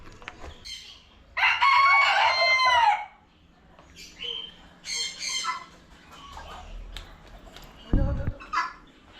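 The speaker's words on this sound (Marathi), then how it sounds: "कसले कोंबडे आहात पळय हांगसर" Roosters at the Big Foot Museum in Loutulim, Goa: one crows loudly and close by, then clucks, and further crows and squawks follow in short bursts, with a brief thump near the end.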